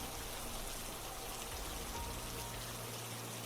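Steady rain falls on a surface at night, a dense, even hiss of drops that continues unbroken, quiet and alone with no voices.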